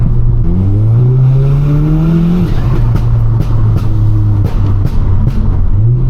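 Audi S3 with a Garrett turbo accelerates hard along a country lane, its engine note climbing through a gear, then dropping and settling into a loud, steady drone with sharp turbo flutters. The engine is close inside the car.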